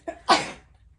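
A single quick sneeze, a short intake followed by an explosive burst, close and fairly loud, then silence.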